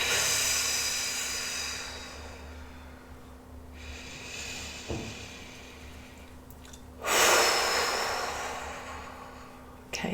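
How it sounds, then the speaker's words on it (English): Deep breaths taken during a guided grief-release exercise, with a long soft inhale-exhale early on, a quieter pause, then a stronger breath near the end over a steady low hum, with no talking. "Take a nice deep breath."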